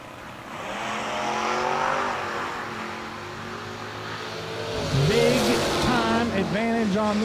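Drag race cars, one of them a Camaro, roar at a racetrack with a sustained engine drone that climbs as they launch, heard over a continuous announcer's voice.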